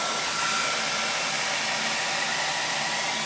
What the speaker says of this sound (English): I can hit them with the blow dryer